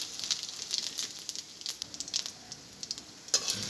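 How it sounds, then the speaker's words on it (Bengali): Cumin seeds sizzle faintly in hot oil for tempering, a soft hiss broken by scattered small pops and crackles, close and fairly quiet with no talking. "ফোড়নে আমি দিচ্ছি জিরে"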